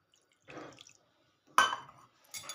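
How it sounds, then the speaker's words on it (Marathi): Three short splashy pours of water into a container holding salt and soda, separated by silence, each ending in light dribbling; fairly quiet and close. "त्याच्यात आपण थोडं पाणी ॲड करणार आहे"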